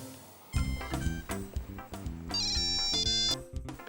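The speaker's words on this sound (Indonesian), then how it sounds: "Maaf ya, aku ada SMS dari temen." A phone's text message notification tone plays in an Indonesian comedy TV episode, a bright melodic ringtone of quick repeated chiming notes sounding clearly and loudly for about three seconds with no talk over it.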